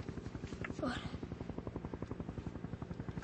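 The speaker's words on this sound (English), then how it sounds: "Helicopter." Helicopter rotor thumping in a steady rapid pulse in a remote icy setting, moderately close and continuous throughout, with a brief voice calling out partway through.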